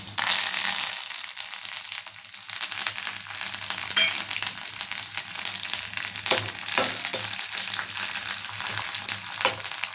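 Curry leaves sizzle in hot oil in a tempering of mustard seeds, urad dal and chana dal. A steady, close frying hiss is punctuated by sharp spitting crackles.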